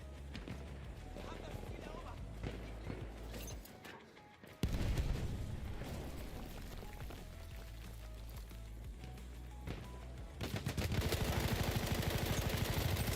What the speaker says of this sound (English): That's a lot of bullets, mate.